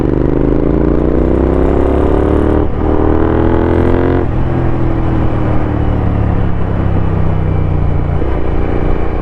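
Kawasaki ZX superbike engine at a superbike meet, revving loudly and continuously with rising and falling harmonic tones, a steady dense engine roar throughout.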